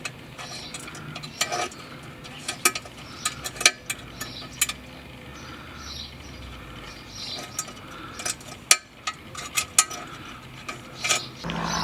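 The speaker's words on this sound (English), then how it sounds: "So with the Helicoil in place, we can just turn it into the thread, gradually just putting it in place." A Helicoil thread insert is turned by hand into the drop-link bolt thread on a VW Golf lower arm, making soft irregular metallic clicks and ratcheting ticks, close and quiet.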